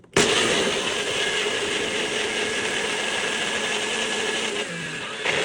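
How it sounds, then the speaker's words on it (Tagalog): A kitchen blender starts abruptly and whirs loud and steady for several seconds, blending a smoothie made with yogurt, with a slight shift in tone near the end. "ilalagay na natin siya sa blender"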